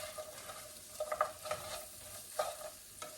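Seasoned hangover breakfast hash is stirred in a hot pan seasoned with garlic powder, with a spoon scraping in a few distinct strokes over a soft, steady sizzle, close and moderately loud.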